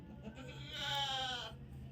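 Goats kept at home let out one loud, close bleat that swells and holds for under a second, with quiet background before and after.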